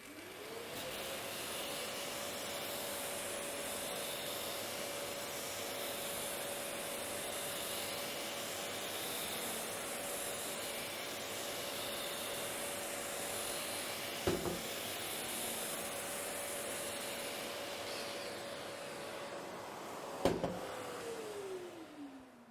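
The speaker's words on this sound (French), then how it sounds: "Je vais maintenant poncer la surface des classes 3 et 4." A Festool sander works a drywall surface with Granat Soft abrasive, a steady whirring drone that runs evenly for about twenty seconds, spins down near the end, and is broken by two brief knocks.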